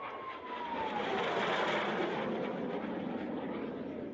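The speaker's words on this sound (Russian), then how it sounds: "За время авиашоу в небо поднялись 20 самолетов и вертолетов." Airplanes and helicopters fly overhead at an air show, giving a steady, loud broadband engine roar that swells and holds, with a descending whine as one aircraft passes.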